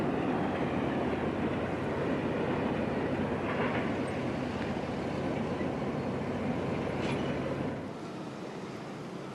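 An EMD diesel locomotive train backs up at a distance, a steady rumbling drone with faint metallic squeaks that drops off toward the end.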